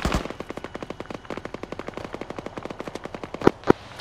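Rapid machine-gun fire in a military video game, a fast regular stream of close, loud shots over about four seconds, with two sharper, heavier bangs near the end.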